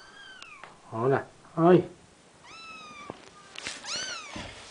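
Several cats meow and mewl in high, rising calls, close and loud at times, interleaved with a person speaking Spanish.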